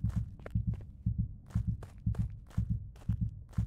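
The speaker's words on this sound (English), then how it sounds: "The heartbeat's getting faster." A heartbeat effect in the video game Witch Hunt thumps in steady paired beats, deep and muffled, repeating at a moderate pace for several seconds without speech.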